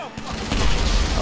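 Gunfire in the GTA 5 Online video game during a mission, a loud dense burst of shots starting partway through and sustaining to the end after a brief quieter lead-in.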